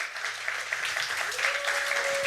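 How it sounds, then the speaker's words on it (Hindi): Morning audience clapping at a stage performance, a steady moderate patter of applause with a brief tone and faint voices beneath. "नहीं, तालियां और थोड़ी बजनी चाहिए ना"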